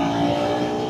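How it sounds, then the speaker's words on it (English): A KTM 390 Enduro R motorcycle engine revs as the throttle opens, giving a loud, close, buzzing drone with a brief rise in pitch. "So just to explain it to you, check this out. Ringing the throttle."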